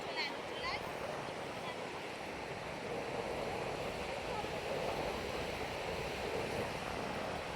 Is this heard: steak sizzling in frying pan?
no